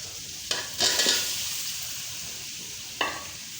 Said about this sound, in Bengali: আমড়াগুলো দিয়ে দিলাম, আমড়াগুলো একটু কষাবো